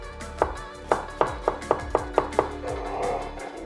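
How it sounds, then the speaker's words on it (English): A knife chops small cucumbers on a board, about eight crisp, evenly spaced taps close up, with quiet kitchen background and no talking. "I decided to use my knife because them cucumbers, they're a bit too small for this"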